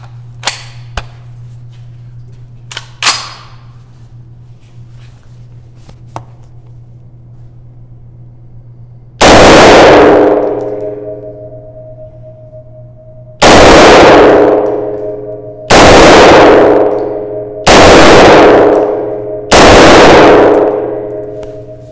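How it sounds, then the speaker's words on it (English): Five loud, sharp rifle shots from a Springfield Armory M1A Tanker in .308 fired at a target about 15 to 20 yards away, the first alone and the last four in quicker succession, each ringing out with a metallic tail. "Going for target 1, 5 shots."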